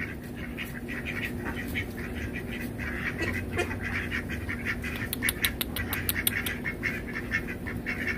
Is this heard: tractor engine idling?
no